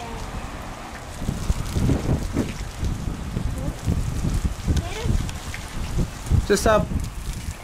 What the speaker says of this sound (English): I reckon the wind's picked up the dust.